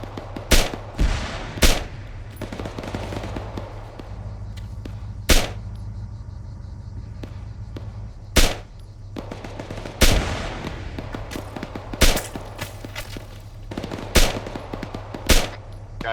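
Video game gunfire from shooters in a building: repeated sharp shots and short automatic bursts at irregular intervals over a steady low rumble, fairly loud with no talking.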